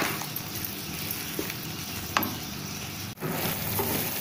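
Gulkand and sugar roasting in a pan, a steady frying hiss with occasional scrapes and clinks of stirring and one abrupt knock near the end, no talking.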